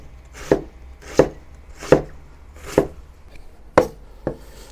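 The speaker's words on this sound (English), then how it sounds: "Next, cut the onion into thin strips." Knife chopping an onion into thin strips on a cutting board for slow cooker beef goulash: six or so crisp, evenly spaced chops, close and clear, with nothing else heard.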